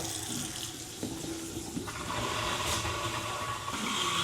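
Water runs steadily from a bathroom faucet into a sink in an old house after a faucet replacement, a continuous close rushing stream with a few clunks, no talking.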